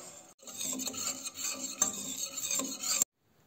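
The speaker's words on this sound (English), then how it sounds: "Whisk it." Butter and all-purpose flour whisked together in a pan for a sauce, a steady close scraping and rasping of the whisk that runs for about three seconds and then stops abruptly.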